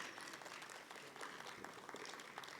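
An audience at a medical conference applauds with steady, faint, distant clapping throughout.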